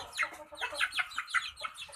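Three-month-old chickens cluck continuously and close by, a busy overlapping run of short, repeated calls with no talking.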